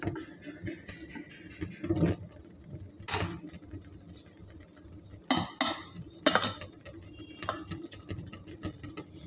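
A metal spoon scrapes and clinks against a pan as it spreads cooking oil for zucchini pancakes, giving a few sharp, close knocks and scrapes spaced out over quiet moments.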